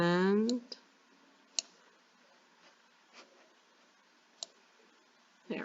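Sharp, isolated clicks of a computer mouse during image editing, five or six spaced irregularly over a few seconds at close range, with a brief voice at the start and otherwise quiet room tone between clicks.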